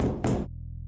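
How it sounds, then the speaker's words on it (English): Several quick knocks rap on a door in a horror video game, a tight cluster of solid thuds that stops abruptly, leaving a low steady hum behind. "somebody knocked on my door"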